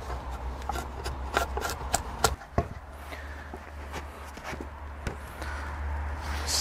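A freshly sharpened chisel pares thin shavings from a wooden tenon, close scraping and rasping strokes with sharp ticks and knocks over a low steady hum.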